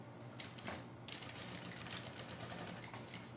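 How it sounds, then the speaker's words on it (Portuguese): A sewing machine stitches along the top of a fabric bag, giving a quiet, quick mechanical rattle in short bursts with brief pauses, fairly close with no voices. "Eu vou fazer só uma costurinha aqui em cima"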